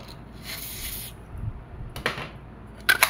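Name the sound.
spraying onto Wingun 708 revolver CO2 bulb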